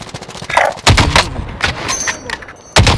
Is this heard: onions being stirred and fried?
no